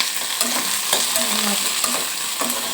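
Onions frying in oil for a fish curry, a steady close sizzle with repeated scraping stirs of a spoon in the pan, no voices.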